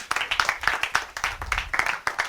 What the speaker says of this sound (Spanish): usualmente cuando digo estas palabras nos aplauden